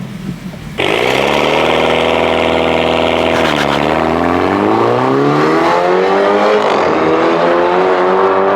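A BMW with a custom exhaust roars loudly, revving up and down through rising and falling pitches with a harsh, throaty exhaust note, heard close and continuous from inside the car.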